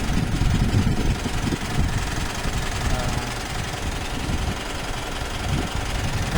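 A 2023 Mitsubishi Montero Sport GLS engine runs steadily with a low rumbling idle and faint knocking texture, heard close and continuous beneath someone talking.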